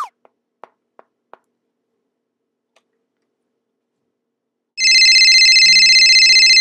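Telephone ringing in a played phone call: a few faint ticks, then a loud, sustained electronic ring tone that cuts in abruptly and continues to the end.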